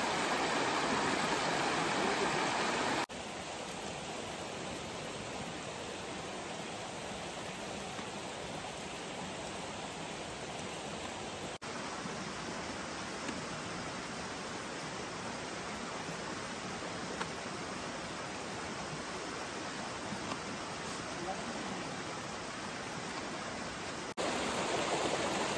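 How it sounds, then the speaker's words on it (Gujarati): A river flows beside a camp in dense forest, making a steady, continuous rushing wash of water that holds at an even, moderate level throughout with no voices. "નદીનો ખળખળ અવાજ આવે છે"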